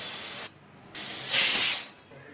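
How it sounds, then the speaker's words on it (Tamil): A stovetop pressure cooker of wheat rava upma vents steam through its whistle in two loud hissing bursts with a short gap between them. The second burst is longer and swells before it fades, and nobody speaks. "2 விசில் வந்தாச்சு."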